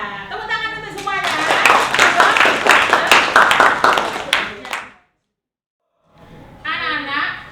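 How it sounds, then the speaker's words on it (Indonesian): A classroom of children claps together in a brisk, loud burst lasting several seconds, then the room falls silent before a teacher's voice resumes speaking. "Tepuk tangan untuk semuanya."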